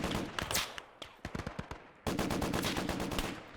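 Machine gun fire in the Gates of Hell war game comes as rapid, rattling bursts of automatic shots, one burst after a brief pause, dense and loud throughout.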